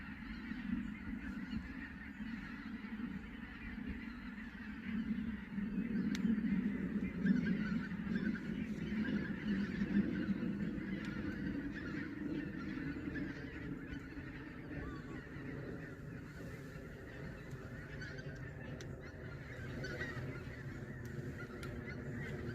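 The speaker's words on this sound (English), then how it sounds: "Oh, listen to these birds." Geese honk repeatedly in a noisy flock, their calls overlapping at moderate distance over a low background rumble, with no talking.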